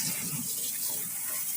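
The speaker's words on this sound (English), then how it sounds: "and I run some water on it just to get it not so warm." Water runs steadily from a tap over a freshly slaughtered chicken inside a plucking machine, a continuous close hiss and splash with no pauses.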